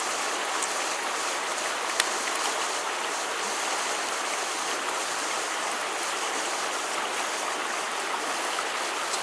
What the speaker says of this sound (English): And you can see water coming out the bottom.